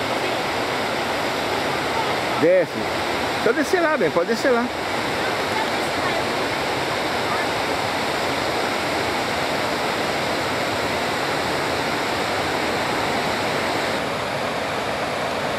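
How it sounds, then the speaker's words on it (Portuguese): A roadside waterfall where a calm river begins to drop produces a constant loud rush of water, with someone speaking briefly over it early on. "Aí aqui começa a cachoeira."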